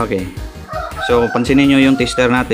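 A rooster crows loudly in the background of a workshop testing a compressor's overload protector and starting relay, its drawn-out call overlapping someone speaking close by.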